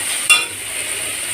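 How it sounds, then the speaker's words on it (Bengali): Turmeric, Kashmiri chilli and cumin powders are sautéed in a pan with a steady soft hiss, broken by one brief metallic scrape of a utensil. "হলুদ গুঁড়ো, কাশ্মীরি লঙ্কার গুঁড়ো, জিরের গুঁড়ো সব কিছু দিয়ে ভালো করে কষিয়ে নেওয়া হচ্ছে"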